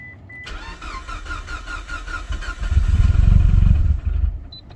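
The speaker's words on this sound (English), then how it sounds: "I'm gonna go ahead and start the car" A Mitsubishi Lancer Evolution 9 engine cranks with a rapid whirring starter, then catches and roars loudly before settling down, close by, after a fuel pump install.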